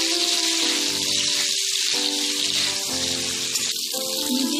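Sliced potatoes with salt fry in a pan, a loud, dense, continuous sizzle close up, with a steady hiss and faint spitting throughout.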